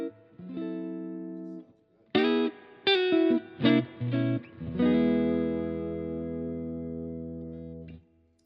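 Electric guitar played through a signature amp's clean channel with a touch of reverb: a sustained chord, a run of short plucked notes, then a long ringing chord that fades out.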